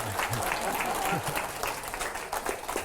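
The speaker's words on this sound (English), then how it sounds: "Applaud like crazy." An audience at a talk applauds, a dense, fairly close wash of clapping that runs steadily with a few louder bursts and a voice speaking over it.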